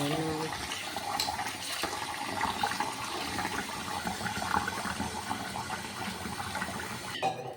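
Chana dal is washed under running water, a steady splashing trickle like a tap flowing into a vessel, close and continuous for several seconds, with a clatter at the end.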